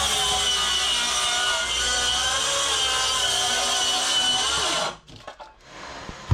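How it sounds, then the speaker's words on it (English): A saw cuts steadily through plywood stuck fast in a home addition wall, its continuous buzzing whine loud and close before stopping abruptly, leaving a few faint clunks and scrapes. "So we just cut through this plywood."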